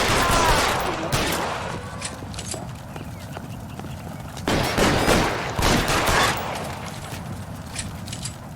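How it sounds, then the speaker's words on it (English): Gunfire in the video game L.A. Noire rings out in sharp bursts over the steady clip-clop of galloping horse hooves, loud and close, with a heavier volley midway through. "Open fire!"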